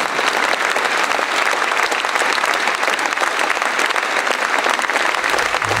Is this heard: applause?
yes